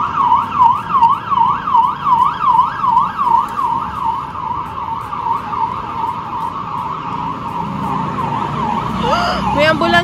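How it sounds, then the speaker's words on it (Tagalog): An ambulance siren wails at a fire scene at night in Korea, loud and close with a steady rising-and-falling cycle that eases slightly as it passes, with street noise behind. "May ambulansya agad oh."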